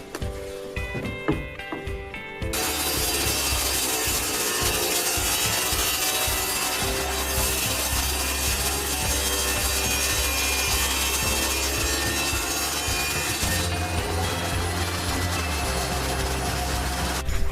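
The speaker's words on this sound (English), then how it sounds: "So we're gonna use some sandpaper." Oak wood for a cradle is rubbed with sandpaper, starting with a few scrapes before a loud, continuous close-up abrasive rasp that holds steady to the end with no talk.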